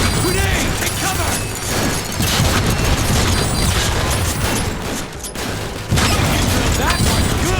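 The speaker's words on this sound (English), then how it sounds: "Grenade! Take cover!" A grenade blast in the Transformers: War for Cybertron game: booming, crackling explosions and mechanical clatter fill a loud, dense battle mix, with a sharp drop near the end followed by another burst.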